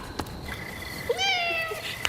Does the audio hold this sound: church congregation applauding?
no